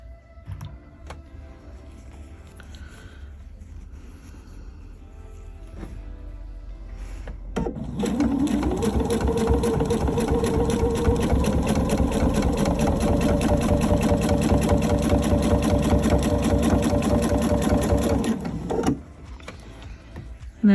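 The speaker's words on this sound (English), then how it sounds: "stitch nice and slow and careful so that you get everything laying nice and flat" A sewing machine stitching fabric for a tree skirt, starting after a quiet stretch and then running steadily with a fast, even mechanical whir and rattle for about ten seconds before stopping, close up.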